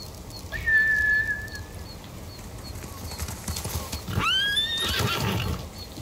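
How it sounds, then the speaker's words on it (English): Horses in the video game Ghost of Tsushima: a clear whinny early on and a louder, sharper neigh later, over a bed of hoofbeats, wind and ambient noise, with no talking. "Bastards scared off the horses."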